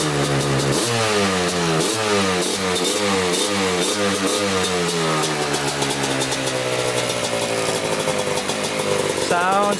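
A Kawasaki Tecate 4 250cc two-stroke quad engine revs up repeatedly in sharp, rising bursts, loud and close with a buzzing crackle, then settles into a higher steady drone; a voice speaks over the engine.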